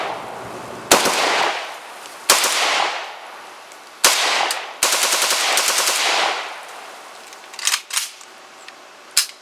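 A PSA AK-74 rifle fired outdoors in several sharp bursts and single shots, loud and close, each crack followed by a decaying echo, with gaps between volleys and a few quieter pops near the end.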